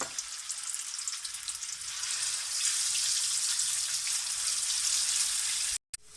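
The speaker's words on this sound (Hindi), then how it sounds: "मसाला माशाल्लाह बहुत ही तेज़ी से और बड़ी खूबसूरती से इसको हम भून रहे हैं" Boiled and ground spice masala with black peppercorns, cloves and black cardamom fries vigorously in oil for Lahori chickpeas, a dense close crackling sizzle that swells midway and cuts off briefly near the end.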